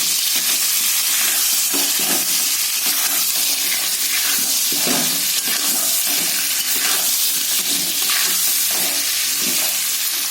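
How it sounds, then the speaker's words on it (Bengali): Potatoes lightly salted fry loudly in oil, a close, constant sizzle with bursts of crackling and the scrape of stirring. "অল্প করে লবণ দিয়ে আমি আলুটাকে ভাজবো।"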